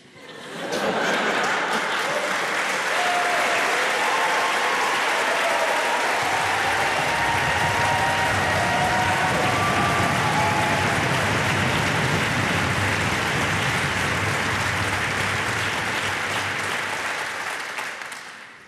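An audience at a live Austrian television show breaks into sustained loud applause that rises quickly, holds dense and even for many seconds, then tapers off near the end.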